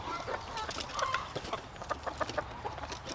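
A small rooster on a farm gives a series of short, irregular clucks at moderate distance, with other faint barnyard sounds around it.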